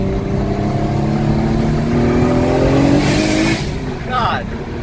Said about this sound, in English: When it does spool, it fucking spools immediately.